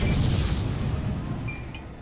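A thrown incendiary bottle bursts in the World War II shooter Medal of Honor: Underground, a single loud, close boom that decays over about two seconds.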